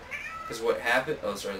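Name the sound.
cat meowing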